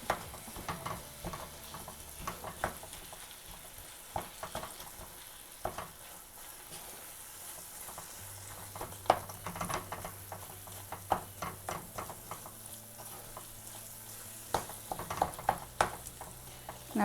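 Paneer masala being stirred in a pan for a street-style paneer masala dosa, a steady low sizzle with repeated spatula scrapes and clicks throughout, no voices.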